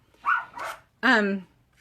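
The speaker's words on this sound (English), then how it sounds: "excuse my dogs barking." Dogs bark indoors, a pair of quick yelping barks followed by a longer, higher whining bark, close and fairly loud.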